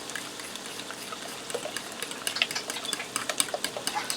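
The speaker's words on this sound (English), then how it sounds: "I'm going to go ahead and mix this all together." Potato stuffing ingredients stirred together in a bowl, a steady wet scraping and mixing that grows into rhythmic, squelchy strokes toward the end, close and moderately loud with no talking.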